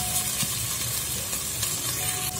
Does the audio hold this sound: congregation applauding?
no